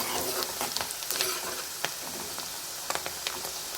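Onions and green chillies fry in hot oil close by, a continuous sizzle broken by sharp crackles and pops.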